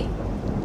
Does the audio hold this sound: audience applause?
no